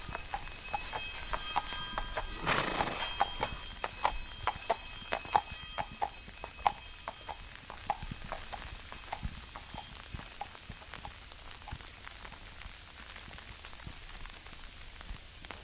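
Horse hooves clip-clop at a steady walking pace through a snowy wood, fairly near, with a light bell-like jingle and soft patter running alongside; no voices.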